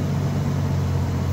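A car with a 4L60E automatic transmission with the PWM deleted runs in third gear, producing a steady low engine drone that holds even and close throughout.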